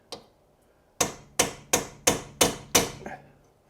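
Six sharp, evenly spaced hammer blows drive a tiny chisel into the side of a stuck front brake bolt on a Jaguar XK8/XJR, each strike a crisp metallic crack close by, followed by a softer final tap.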